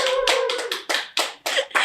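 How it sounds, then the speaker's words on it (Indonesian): Audience clapping in short bursts at an event, several sharp separate rounds of hand claps, close and fairly loud. "Tepuk tangannya mana?"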